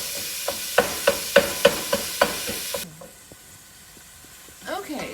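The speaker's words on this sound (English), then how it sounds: "our ground beef is cooking and it's broken up into small pieces" Ground beef browning and sizzling in a pan as a utensil scrapes and breaks it up, with a rhythmic series of sharp taps, then a softer steady hiss.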